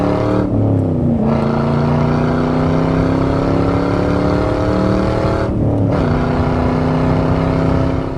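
A 1998 Pontiac WS6 with a 5.7 V8 and six-speed manual pulls hard in second gear, a loud close engine note rising steadily with two brief dips where the revs drop between pulls.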